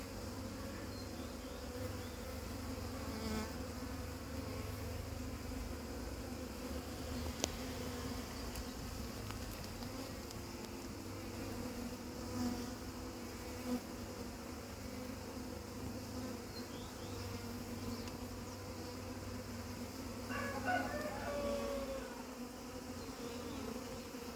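Dense, continuous buzzing of a captured honeybee swarm on horizontal frames, steady and close throughout with a few faint clicks and knocks.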